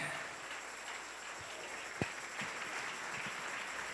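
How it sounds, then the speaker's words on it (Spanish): Congregation applause inside a church, continuous clapping at an even level with a few sharper isolated claps and knocks standing out midway. "Dele ese aplauso al Rey."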